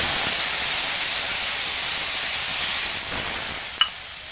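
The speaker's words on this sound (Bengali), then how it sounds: "এবার জল দিয়ে দেবো।" Water poured into a pan of fried turmeric spice paste for a magur fish curry gives a steady loud hiss and sizzle that eases slightly toward the end, with a brief clink near the close.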